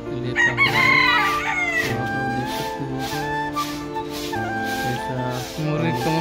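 A rooster crows among farmyard chickens at a rural home in the morning, the call loud and sustained over dense layered noise and clucking that fill the whole stretch.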